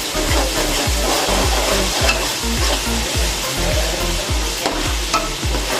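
Onions with ginger garlic paste frying in a pan, a continuous close sizzle broken by regular scraping strokes of a spoon stirring.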